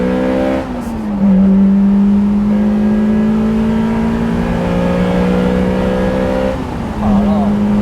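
Toyota MR2 Mk1 engine holding a steady revving drone while driving, with gear-change dips near the start and end, loud and close under occasional talk.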